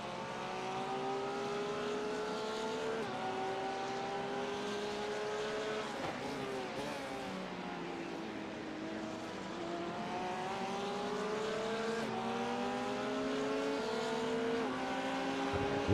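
In the iRacing game at Sebring, an LMP2 prototype race car closes in, its engine a steady whining drone that rises and falls in pitch through gear changes, heard continuously.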